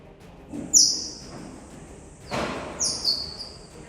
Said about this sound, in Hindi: चीते जब छोटे यानी जब वो शावक होते हैं तो बिल्लियों और चिड़ियों के जैसे भी आपस में बात करते हैं